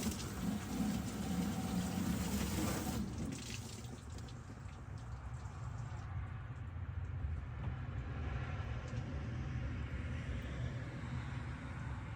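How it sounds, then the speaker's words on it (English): A garden hose sprays water onto a Ram 1500 pickup truck near the cab vent, a steady broadband rushing spatter throughout, fairly constant and without talking. "I'm going to go ahead and set it up and turn on the hose."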